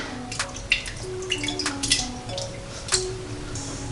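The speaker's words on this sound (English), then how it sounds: "Garlic's kind of causing a little splashing," Minced garlic drops into liquid in an Instant Pot while cranberry beans are being cooked, making a few small splashes and drips with light clinks against the pot, close and fairly quiet.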